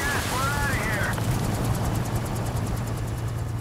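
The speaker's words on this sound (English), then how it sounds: "There's the chopper." Helicopter in the video game Call of Duty Modern Warfare 2 gives a steady rotor and engine drone with a rapid chopping flutter, set among game sounds and radio-style voices.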